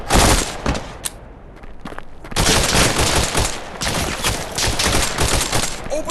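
Intense gunfire in a VR tactical shooter game: an opening burst, a short lull with a few scattered shots, then sustained rapid fire from several weapons, loud and close.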